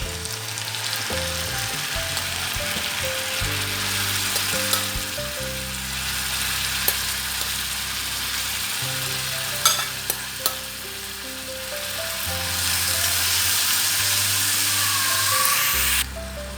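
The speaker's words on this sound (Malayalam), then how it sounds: "അപ്പോൾ ഈ ഇഞ്ചി ഒരു ഗോൾഡൻ ബ്രൗൺ കളറാകുന്നത് വരെ നമുക്കിതിനൊന്ന് ഫ്രൈ ചെയ്തെടുക്കണം" Chopped ginger fries in hot coconut oil for a ginger pickle, making a loud, dense, continuous sizzle close by. A spoon stirs and scrapes against the pan now and then, and no one speaks.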